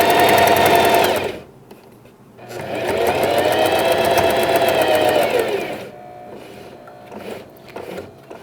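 Sewing machine stitching a pet bandana in two bursts of rapid, close mechanical whirring, stopping briefly between runs, followed by quieter handling clicks.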